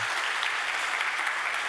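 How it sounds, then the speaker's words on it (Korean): A church congregation claps after a piano hymn performance at a Sunday service, steady dense applause filling the room throughout. "우리 응원 담고 박수 한번 할까요?"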